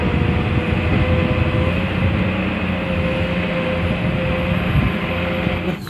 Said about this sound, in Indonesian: Ini kereta api Thomas lagi, teman-teman